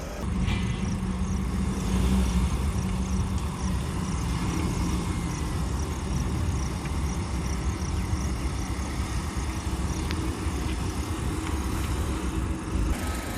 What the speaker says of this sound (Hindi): पिछले पहिए बहुत स्ट्रगल कर रहे थे इस चिकने सरफेस से बाहर निकलने के लिए